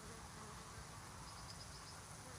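A swarm of bees flying in and out of a hive box entrance in the rainy season, a steady, faint, continuous buzzing hum with no break.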